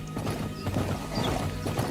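Horse hooves clop in a Fable game trailer, a steady run of dull thuds set in a busy mix with low rumble and scattered clatter, fairly loud and continuous throughout.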